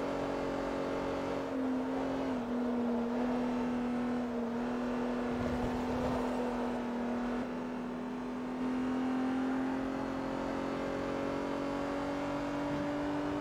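Renault Clio Sport engine droning at steady revs in the Forza Motorsport 3 racing game, a continuous buzzing hum with slight pitch shifts as the car drives along.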